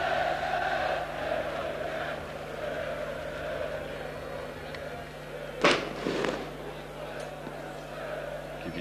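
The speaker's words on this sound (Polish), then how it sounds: "Kibice znudzeni takim obrotem sprawy rzucają petardy." Football fans set off firecrackers in the stands during an ŁKS Łódź versus Lech Poznań match. One sharp bang and a smaller crack ring out over steady crowd murmur while a commentator talks throughout.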